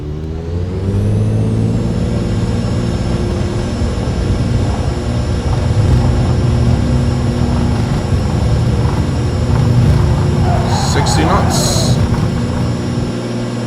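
Piper PA-28R Turbo Arrow engine roaring steadily at takeoff power in X-Plane 11, a loud continuous drone with a rising whine that stays close and constant throughout the roll and climb.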